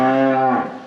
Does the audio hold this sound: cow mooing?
yes